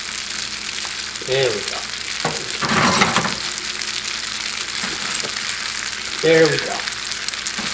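Pasta sizzles and fries in a pan with spicy crab sauce as it gets stirred, a steady loud hiss with scraping swells, while a person talks briefly.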